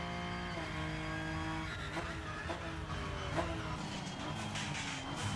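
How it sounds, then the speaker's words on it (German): Race car engine from the Rennsport racing video game, a raw, crisp motor note with rising and falling gear pitches and shifts, loud and steady throughout with no talk over it. "Aber in Rennsport klingt das Ganze irgendwie ein bisschen rauer, ein bisschen knackiger, so vom Motorensound her."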